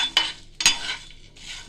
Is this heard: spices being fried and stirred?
yes